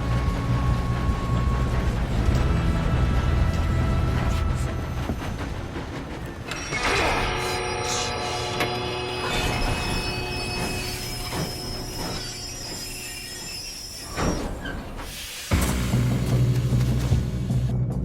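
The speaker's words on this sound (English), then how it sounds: "We have to stop this train." A moving train in the video game Red Dead Redemption 2 rumbles steadily with squealing wheels and metallic rattling, a dense mechanical roar that dips briefly near the end before surging back.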